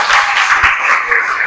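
A classroom group claps for a student named Ricardo during a teacher-training lesson: a steady, close patter of many hands that stays even for its short length, with a faint voice beneath.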